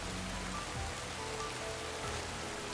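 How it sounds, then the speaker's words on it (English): Steady rain falls across a simulated jungle, a dense, even hiss of drops on surfaces that never lets up, with no voices. "It was about to rain."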